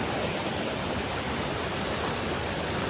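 Steady rushing of flowing water during a Ganesh festival arrival procession at Dhavale village, a dense continuous broadband wash with no breaks, fairly close and even in level, with no talk over it.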